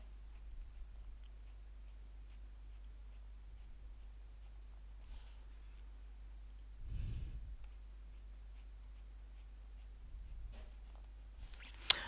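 Pen drawing fold lines on a paper packaging net, a faint, quiet scratching in a very still room, with a soft thump partway through and a sharp tap at the very end.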